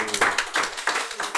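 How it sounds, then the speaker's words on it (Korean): A Korean church congregation claps during a Sunday worship service: a short burst of hand claps in loose, pulsing waves, with a voice sounding over the start. "우리 뜨겁게 한번 박수 한번 해주셨으면 감사하고요."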